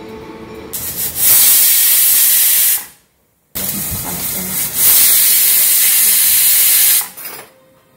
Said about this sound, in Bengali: এবারে প্রেসার কুকারের মুখটা আটকে দিলাম।